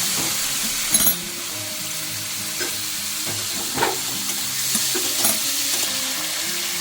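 Prawns sizzle steadily as they are stir-fried in hot oil for a kochu pata chingri dish, with the constant hiss broken by occasional clinks and scrapes of stirring.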